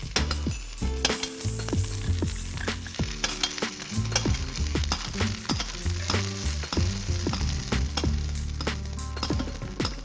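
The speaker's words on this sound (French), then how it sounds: "Arrosez le poisson avec le beurre." Fish sautéed meunière-style in browned butter in a tilted pan, basted with a spoon, sizzling steadily and close up, with scattered clinks of the spoon against the pan.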